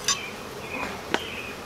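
Agitated honeybees buzz around a yellow hive, with short whining passes of individual bees flying close by against a quieter background hum.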